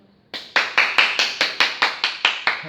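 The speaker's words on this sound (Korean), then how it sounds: "박수를 많이 치면 좋아요." In a Korean business language classroom, about ten crisp, evenly spaced hand claps ring out in a steady rhythm, close and clear in an otherwise quiet room.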